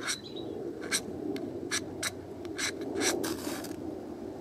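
A razor-sharp high-speed-steel bushcraft knife blade makes controlled scrapes along a very hard ferrocerium rod, producing about ten short, crisp rasping strokes in an uneven rhythm, close and fairly quiet.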